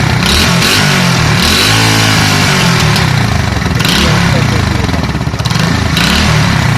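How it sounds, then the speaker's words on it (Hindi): A bike engine with a modified silencer, drilled through with holes, runs loud and close, idling with a throaty, popping rumble and a few revs rising and falling. "ये हमारे मोटरसाइकिल की आवाज़ बहुत ही ज़बरदस्त है"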